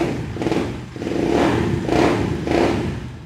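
A Benelli 600i motorcycle engine fitted with an AEW exhaust revs in three or four quick throttle blips, each a loud, throaty swell close by.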